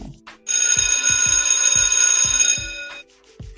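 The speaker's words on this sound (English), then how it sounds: "I need to even sound another alarm for you" A loud bell alarm rings continuously for about two seconds with a metallic clatter, then stops abruptly, leaving quiet.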